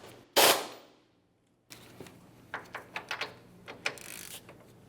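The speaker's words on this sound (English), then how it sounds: "hold the stud in place with your wrench along the backside and snug up the mounting nut" A wrench snugs the sway bar link mounting nut on a 2004-2015 Nissan Titan front strut: one sharp metallic clack, a pause, then a rapid run of close ratcheting clicks and taps.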